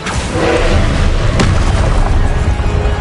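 A Confringo blasting spell explodes in a Harry Potter wizard video game, a loud sustained boom with a sharp crack near the middle, rumbling low and continuous throughout.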